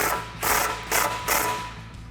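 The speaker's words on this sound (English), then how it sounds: "Grab a 10mm socket and wrench and tighten it down." Three short ratcheting bursts from a 10mm socket and wrench tightening a nut on a cold air intake bracket, 2011-2019 Dodge Challenger 6.4L HEMI, close and clear with no talk.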